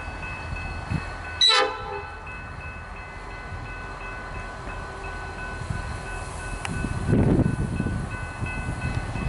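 A train hauled by a VL-class locomotive rumbles past close by near a siding at Hastings, Melbourne, with a loud horn blast early on and a swelling low roar of wheels and engine toward the end.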